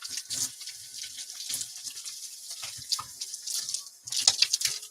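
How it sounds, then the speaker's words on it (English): Running water from a kitchen tap splashes over hands being washed in a sink, a close, steady stream with shifting splashes and brief drips. "Let me just wash my hands here."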